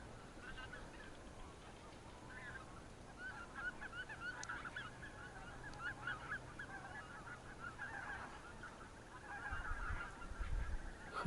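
A large flock of geese honks continuously while circling to land over spring floodwater, many overlapping calls at moderate distance, with someone speaking quietly beneath them.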